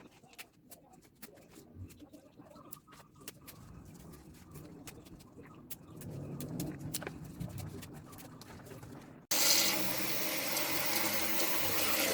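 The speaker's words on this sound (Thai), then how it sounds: "เดี๋ยวเรามาล้างห้อยแล้วก็ล้างใบชะพูกันนะครับ" Freshwater snails and wild betel (cha plu) leaves being washed in water for a snail curry, with splashing and rattling handling sounds that end in a loud, steady rush of water close by.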